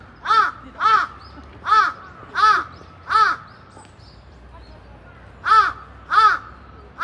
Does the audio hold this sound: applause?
no